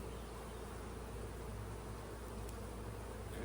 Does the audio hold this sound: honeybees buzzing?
yes